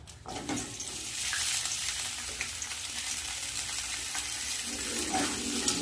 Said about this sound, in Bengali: এই তেলের মধ্যে দিয়ে দেবো কেটে রাখা আলু পেঁয়াজ আর কাঁচা লঙ্কা